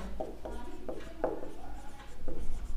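Marker or chalk strokes on a board during a class 12 matrices lesson, a few soft scratching bursts at an irregular pace, faint and close, with quiet room noise between them.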